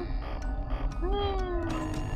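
A cat meows in the horror game Five Nights at Freddy's 2, a drawn-out rising-and-falling call heard clearly over a dense, rumbling game background.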